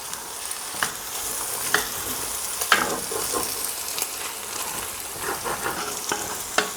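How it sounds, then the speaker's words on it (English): Veal stew deglazed with dry white wine sizzles loudly and steadily in the pot while a utensil scrapes and stirs in irregular knocks, with no talking. "of dry white wine. Add that. Mix it all around and deglaze what you can."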